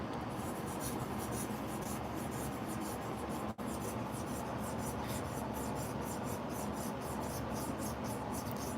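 A Thompson Simplicity fountain pen nib scratches across paper, producing a continuous dry rasp with rhythmic stroke pulses and one brief pause midway, close and clear with no talking.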